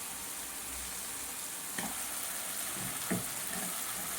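Stuffed brinjals fry in a generous amount of oil, producing a constant close sizzle, with a couple of brief louder crackles and splashes as pieces shift in the pan.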